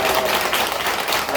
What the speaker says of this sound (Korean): 예, 한번 이 가정을 위해서 한번 크게 박수하겠습니다.